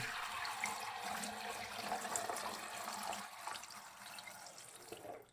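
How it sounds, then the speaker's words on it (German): Liquid poured through a sieve into a cooking pot while making homemade cream cheese, a steady close watery rush and trickle that thins out toward the end. "Dazu den Sieb drauf und wir gießen das Ganze da rein."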